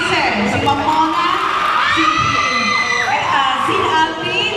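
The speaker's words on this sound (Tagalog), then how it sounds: "palakpakan po natin ang ating mga organizer" An event crowd in Binangonan shouts and cheers loudly and continuously for the organizers, with whoops and high children's voices rising over the din.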